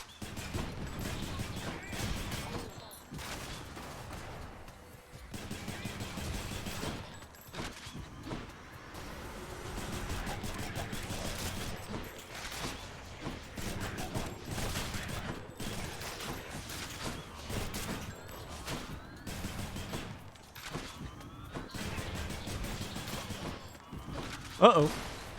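Bullets firing in the action game Hades, rapid rattling shots and impacts running steadily through a busy fight mix, fairly faint and continuous, with a voice talking over the top.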